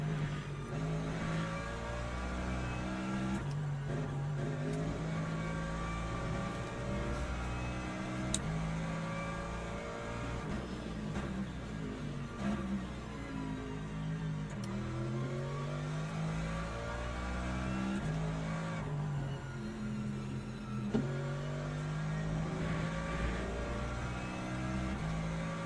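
A Porsche GT3 race car engine in Le Mans Ultimate during an LMGT3 sprint race at Spa, droning steadily and loudly throughout with rising and falling pitch as it accelerates and shifts, with other race cars mixed in and no talk.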